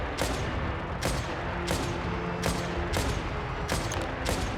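Repeated sniper gunfire in the video game Genshin Impact, about six loud sharp cracks spaced roughly a second apart over a steady background of game noise.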